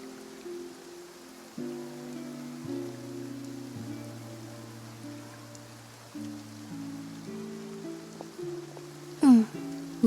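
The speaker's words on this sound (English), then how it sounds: "Looks like rain." Rain begins in the video game Genshin Impact as a faint, even patter beneath calm, slowly shifting background music, with a short vocal sound near the end.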